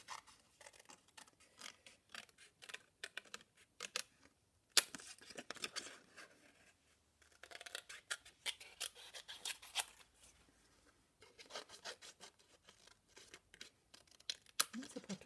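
Scissors snipping through sheets of paper while cutting out a 3D accordion card, a quick run of close, crisp cuts and rustles with brief pauses between strokes.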